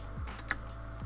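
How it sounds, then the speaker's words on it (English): A few key presses on a computer keyboard during 3D modelling work, two soft low thumps and a sharper click in between, close and fairly quiet with no talk. "We're gonna hit G on our keyboard"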